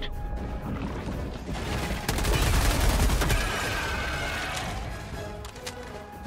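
Heavy gunfire in a co-op action game, sustained bursts of rapid shots with crashing impacts that grow louder about midway through, then ease into steady background fire.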